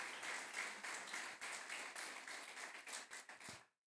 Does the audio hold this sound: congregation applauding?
yes